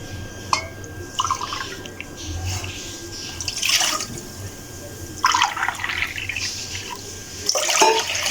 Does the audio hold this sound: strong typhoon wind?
no